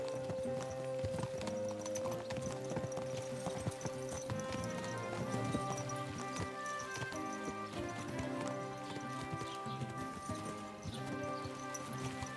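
Horse hooves clip-clop steadily along in the video game Kingdom Come: Deliverance II, a continuous even trot heard over ambient game music and background sound, with no talking.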